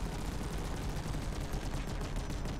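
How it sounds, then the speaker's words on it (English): Rapid automatic fire from a large multi-cannon mounted on a Clipper ship in Elite Dangerous, a dense continuous rattle of shots that stays loud and sustained throughout. "I really do like this new sound of the multi-cannon"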